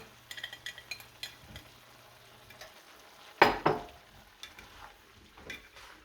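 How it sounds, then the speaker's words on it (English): Beef and vegetable stir fry with broccoli stirred in a pan, a quiet low sizzle broken by scattered clinks and scrapes of a utensil against the pan, with one louder clatter midway, close and without speech. "Stir that good. Mix it all together."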